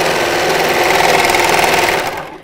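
An overlocker stitches fabric in a steady, fast mechanical whir with a rapid rhythmic chatter, loud and close, running alone for about two seconds before winding down and stopping.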